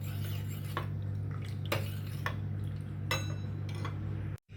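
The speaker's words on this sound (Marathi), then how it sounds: "आता हे कॉर्नफ्लॉवर आपण ह्या दुधामध्ये मिक्स करून घेऊया" A spoon stirring cornflour into milk for hot chocolate, a handful of soft clinks and taps against the vessel over a low steady hum, close and quiet.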